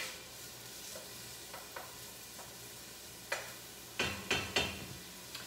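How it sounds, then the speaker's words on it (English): A wooden spoon stirring ingredients in olive oil at the bottom of a soup pot, a soft, quiet sizzle with a few sharp knocks and scrapes clustered toward the end. "So we're using a wooden spoon and we're stirring it around in the olive oil in the bottom of the pot."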